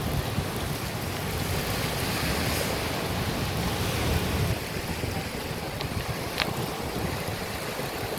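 Waves break over sandbars at Fort Myers Beach in a continuous, loud wash of surf, with wind buffeting the microphone throughout and no voices.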